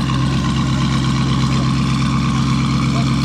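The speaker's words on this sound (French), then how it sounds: "ce Cayenne Turbo GT, j'ai jamais entendu un autre faire autant de bruit" Porsche Cayenne Turbo GT engine, a loud, deep, steady rumble close by with a constant low growl and no pauses.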